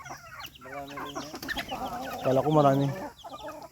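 Native chickens on a rural Philippine farm cluck and squawk loudly nearby in quick, overlapping calls, with a person speaking over the flock.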